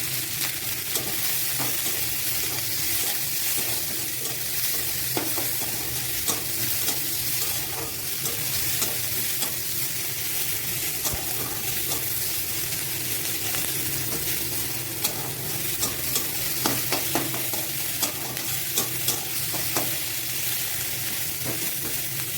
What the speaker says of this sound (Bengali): দিয়ে একটু লাল লাল করে ভেজে নেব।